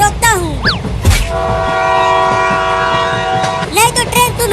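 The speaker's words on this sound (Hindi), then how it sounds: "वो देखो, एक और ट्रेन आ रही है" A passing train sounds a long, loud, sustained horn blast nearby, with rumbling and rail noise around it and short sweeping tones before and after.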